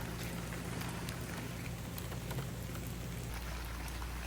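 Steady rain pouring down at a lakeside campsite in a state park, a dense broadband hiss with scattered drop hits, loud and continuous throughout with a low rumble beneath.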